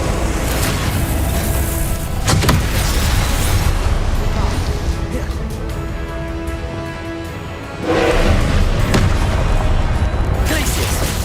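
Confringo fire-blast spell cast repeatedly in Hogwarts Legacy, a dense, loud stretch of bursting booms and crackling impacts with two sharp blasts that swell and then fade, set over constant game music and effects.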